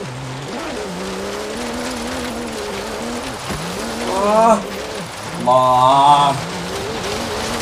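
A Porsche fishtails through an off-road drift section in Forza Horizon 3, its engine note wavering and rising in two short revving bursts, with a player speaking briefly.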